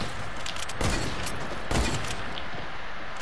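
Sniper rifle shots ring out in a first-person shooter game, two sharp booming cracks about a second apart over steady background noise.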